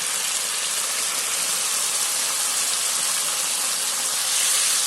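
Fried chicken pieces for chilli chicken drop into a hot pan with sauce batter and chillies, giving a loud, steady, broadband sizzle that holds without break for several seconds, with no voices.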